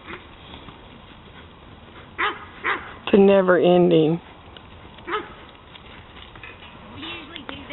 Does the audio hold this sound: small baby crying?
no